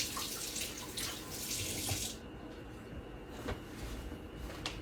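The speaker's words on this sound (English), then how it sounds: "Let me rinse my hands real quick." Water runs steadily from a tap over hands being rinsed at a kitchen sink, loud for the first two seconds, then cut to a faint trickle with a few small drips and clinks.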